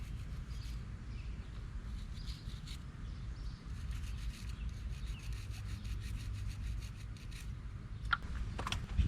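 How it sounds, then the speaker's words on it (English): Steady rubbing and rasping as an oil-coated wire brush scrubs parts from a 1975 Dodge Dart Sport. The dry, gritty strokes continue evenly and close, with a couple of sharper scrapes near the end. "I got a wire brush covered in oil"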